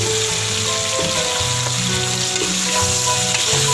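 Chicken sizzles steadily in a hot pan, a dense close frying hiss running throughout with faint stirring, and no voices.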